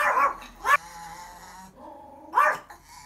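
A budgerigar imitates a dog with a few sharp yappy barks and a low growl between them, close by and fairly loud.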